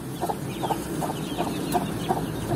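Pigeons in a coop give soft, repeated coos and clucking calls at a steady rhythm, close and moderately quiet over a low background hum.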